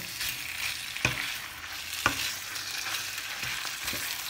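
Steady sizzling of pork belly stir-frying in a hot pan, with occasional sharp scrapes and taps as it is stirred.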